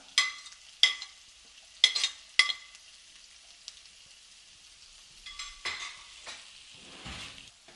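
Beef brain sautés in a Kerala-style pan with garlic, coriander, mint and curry leaves: a handful of sharp spatula clinks and scrapes, each followed by a short hiss of sizzling, in a fairly quiet kitchen.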